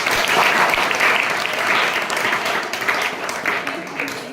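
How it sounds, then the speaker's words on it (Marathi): Schoolchildren at a secondary school clap together in a classroom, a dense and loud round of applause that holds steady for about four seconds. "टाळ्या वाजवा त्याच्यासाठी."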